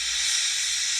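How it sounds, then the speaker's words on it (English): A steam engine lets off a steady, loud hiss of steam, one continuous bright rush held evenly at close range with no pauses or talk. "Gordon wheezed some steam and pulled out of the station."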